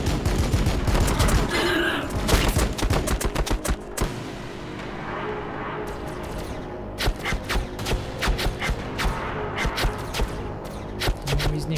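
Dense volleys of rapid gunfire and shots from the Warhammer 40000 Battlesector strategy game, crackling in irregular bursts and clusters with a few thuds, loud and continuous throughout with no talk.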